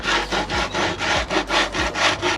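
A hand rasp files back and forth across the edge of a plywood panel for a campervan lining, about eight even rough strokes close up with nobody talking.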